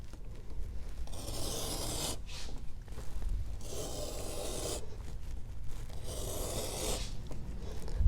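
A knife is drawn along a straight edge through a side of Herman Oak leather, giving three long, soft rasping strokes separated by short pauses, close and quiet, with no talking.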